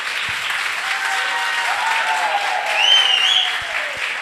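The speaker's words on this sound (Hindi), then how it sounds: "इस बात पे ताली बजाए इसको।" Steady audience applause from a crowd at a spoken address, a dense even patter of clapping swelling slightly near the end, with no voice over it.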